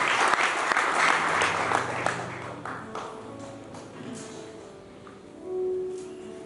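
A church congregation bursts into loud, dense clapping at once, then the applause gradually thins and fades over several seconds, leaving a brief murmur at the close.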